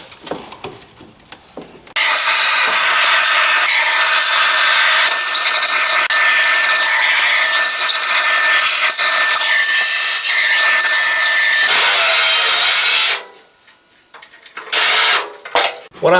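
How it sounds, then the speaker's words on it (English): A power tool grinds out spot welds on a damaged car's inner panel, a loud, steady high-pitched whine holding for about ten seconds, with quieter scraping and handling noises before and after. "What I'm doing is cutting the spot welds out so I can remove this inside piece"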